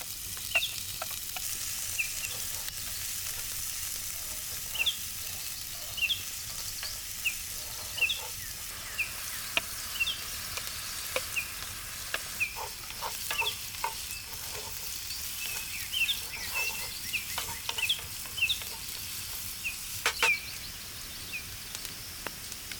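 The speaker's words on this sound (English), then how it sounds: "We sear it until it gets a nice brown color." Minced meat sears in a hot cast iron pan with olive oil, onion and garlic, giving a steady sizzle with scattered spatula scrapes and stirring clicks throughout, fairly close and with no speech.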